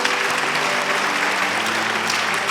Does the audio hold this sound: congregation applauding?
yes